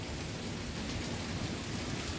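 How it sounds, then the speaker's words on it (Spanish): Steady rain falling in San Juan de los Lagos, Mexico, a soft continuous hiss of drops heard at low level from under cover, with no voices. "Nosotros aquí, pues viendo llover y no nos mojamos."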